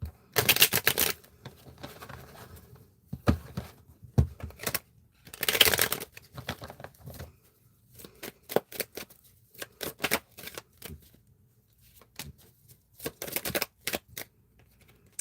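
Tarot cards shuffled and drawn from the deck, crisp riffling bursts and flicking snaps in irregular clusters, close and alone.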